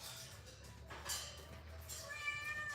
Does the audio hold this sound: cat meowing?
yes